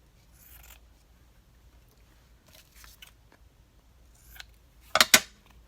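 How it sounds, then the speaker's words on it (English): Scissors trim the edge off a piece of paper for a paint-themed craft layout: faint rustles and small snips at first, then two sharp, close cuts near the end in a quiet room. "I will trim that off a little."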